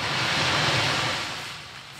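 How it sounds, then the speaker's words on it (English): Wind rushes steadily across an open beach at night, with broadband gusty noise buffeting the microphone and a low surf-like roar beneath, strongest early then easing slightly; no speech. "The wind is playing up a little bit tonight"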